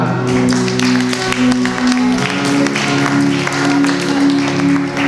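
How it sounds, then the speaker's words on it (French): Audience at a church service applauds, scattered sharp claps over a sustained musical tone and a low hum, moderately loud and steady for several seconds. "on applaudit demoiselle"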